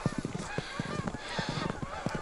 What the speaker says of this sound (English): Lots of geese on the move.